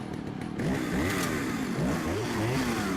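In Resident Evil 4, a chainsaw engine revs loudly and continuously, its pitch rising and falling in repeated surges over a rough, buzzing mechanical drone.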